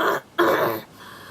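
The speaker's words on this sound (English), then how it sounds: "can't stop coughing" A person with a scratchy throat coughs and clears their throat in two short, harsh, close bursts separated by a brief pause, with no words spoken.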